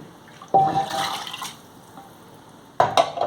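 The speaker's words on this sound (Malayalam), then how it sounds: "ഇനി ഇച്ചിരി കൂടെ ഒഴിക്കാം വെള്ളം" Water splashes into a pot of Kerala-style fish curry in a short pour, trickles off, then a second brief splash follows near the end.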